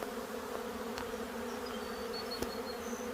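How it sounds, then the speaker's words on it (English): A swarm of honeybees hangs in a tree outdoors, their buzzing a faint, continuous hum with a few individual bees droning past close by. "Look at all those bees."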